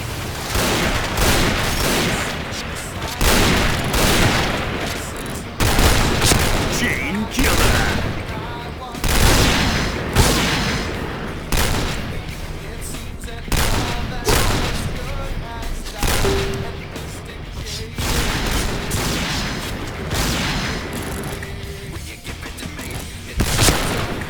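An AS-50 sniper rifle fires in PUBG: loud, sharp gunshots repeat at irregular intervals with booming tails, and someone talks between some of them.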